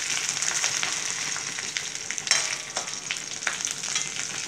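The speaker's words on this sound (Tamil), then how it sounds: "இந்த தேங்காய் பாருங்கள் நல்லா பொரிஞ்சிருச்சு" Grated coconut frying with curry leaves in a pan for groundnut beetroot kootu, giving a steady close hiss of frying with light stirring scrapes and short crackling bursts throughout.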